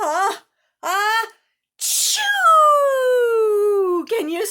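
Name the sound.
voice imitating a sneeze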